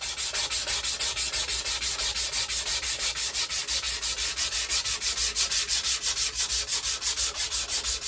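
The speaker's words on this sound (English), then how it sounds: "So, back to the sanding." Rhythmic back-and-forth sanding strokes on a wooden Fender Jaguar guitar neck, steady and close, repeating about five times a second with no talking.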